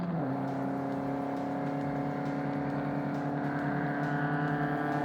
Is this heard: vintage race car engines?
yes